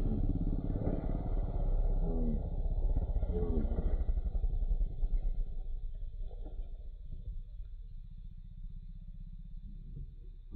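Trail motorcycle such as an XR 150L, CRF 150L or KLX 150 riding downhill on a dirt trail, its engine a steady close rumble that eases off midway, with voices talking over it.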